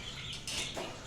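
Shamoo chicks peep in a brief, dense cluster of high calls, close and fairly loud for about a second.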